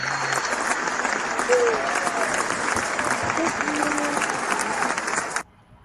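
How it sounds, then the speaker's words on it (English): A room full of people gives a round of applause after a talk, dense and fairly loud clapping that holds steady for more than five seconds before cutting off abruptly. "So, a round of applause."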